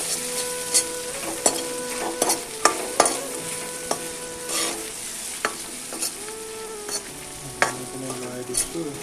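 Potatoes and green papaya frying in a pan while being stirred, a close sizzle broken by frequent sharp spatula taps and scrapes against the metal, no voices.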